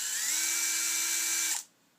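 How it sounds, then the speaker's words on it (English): An electric drill whirs steadily with steel wool spinning in its chuck, polishing a metal pin, a close, loud high whine held for about a second and a half before cutting off abruptly. "I actually use this drill a lot with steel wool in it to get into nooks and crannies"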